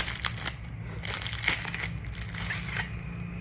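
A parcel package being opened by hand, with steady crinkling and crushing of plastic packaging wrap close up, a few sharper tearing crackles, and no talking.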